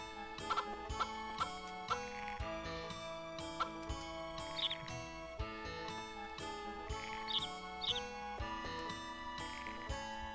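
Chickens in the farm game Harvest Moon 64 cluck in short, scattered calls over a steady, bright background tune with chiming notes, the bird sounds fairly soft and intermittent throughout.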